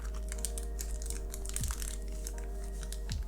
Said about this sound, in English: let's go ahead and start getting some keycaps on